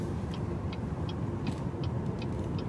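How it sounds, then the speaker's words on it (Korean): Cabin road noise in a Chevrolet Malibu front-wheel-drive midsize sedan while driving, a steady low rumble and tire hiss at moderate level with no talking. "주행 소음은 그렇게 많이 억제되어 있는 편은 아니다"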